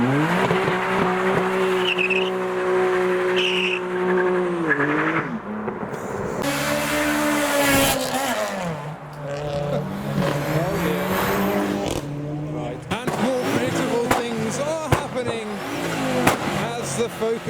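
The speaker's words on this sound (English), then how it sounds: "I might get some turbo noises as it approaches" Turbocharged cars at a busy memorial car meet accelerate past with rising engine drone and tire squeal, one car approaching and pulling away before more engine noise and crowd voices follow.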